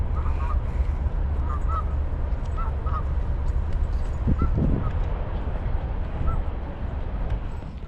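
Geese by a lake give several short honks at a moderate distance, scattered in small bursts over a steady outdoor background rumble.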